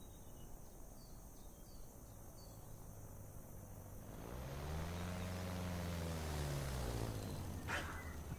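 An aircraft flies past in Microsoft Flight Simulator 2024, starting from faint ambient noise before the engine drone swells in and sweeps past with a shifting pitch, staying moderately loud to the end.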